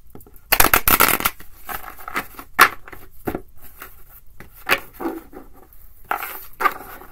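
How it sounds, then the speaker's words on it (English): A stiff, thick tattoo-themed tarot deck is shuffled by hand in bursts of crisp riffling card flutters with short pauses between them, close and clear. "this is the tattoo tarot. This thing is stout. Takes a lot for me to shuffle this baby."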